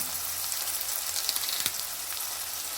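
Ginger garlic paste frying in oil for a brinjal and tomato curry: a steady, soft, close sizzle with fine crackle throughout and one brief clink partway through, no voices.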